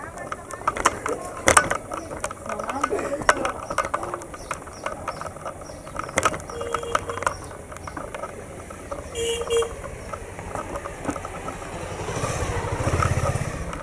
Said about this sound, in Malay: lorong-lorong kecil yang penuh sesak dengan motosikal,